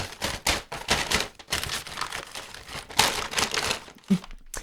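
A diaper being handled with loud close crinkling, rustling in irregular bursts with brief pauses between.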